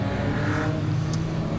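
Biofuel-powered Ford Mustang race car on a warm-up lap at a classic car race, its steady low engine drone rumbling continuously at moderate distance, no talk.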